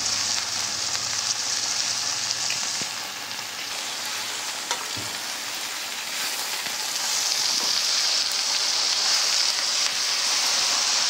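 Ponnaganti leaves fry gently in a pan over low heat, giving a steady, even sizzle that stays unbroken for the whole stretch, with no voices.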